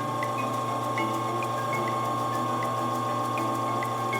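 An espresso machine pump drones in a loud, steady hum while pulling a shot of Kona coffee at low pressure, with faint intermittent ticks and liquid trickle over the continuous motor tone.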